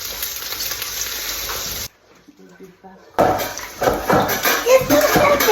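Onions frying in oil while being stirred in a pot: a close, steady sizzle broken by a brief quiet gap, then returning louder with scraping stir sounds.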